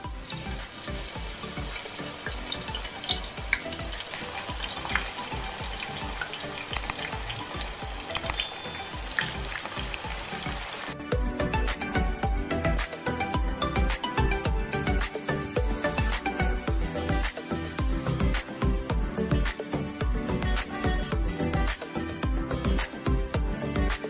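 Frozen hash browns sizzling and crackling in hot oil, a dense, steady frying hiss that grows busier and louder partway through, with no talking.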